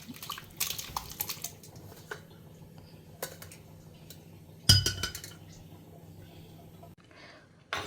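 A metal ladle clinks against a cooking pot as mashed tomato and dal are added, a few scattered knocks and scrapes with one louder clank, while a voice talks quietly underneath.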